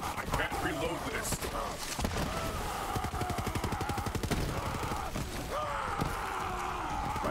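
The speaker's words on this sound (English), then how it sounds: "I like this corrosion gun." A corrosion gun fires in Borderlands 3 in rapid automatic bursts, a fast rattling stream of shots over busy game sound and music, with a voice briefly audible.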